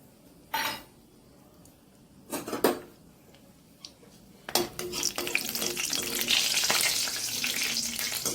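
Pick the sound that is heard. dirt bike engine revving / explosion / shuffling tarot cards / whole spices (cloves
whole spices (cloves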